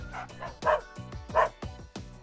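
A pet dog barking in a burst of short, sharp bow-wow yips. Five or six barks come in quick succession at close range, with no voices in between.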